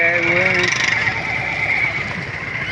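Horse neighing at a crowded livestock fair on Sakhi Sarwar Road, Dera Ghazi Khan, with a loud, quavering whinny in the opening half-second over steady crowd noise and nearby voices.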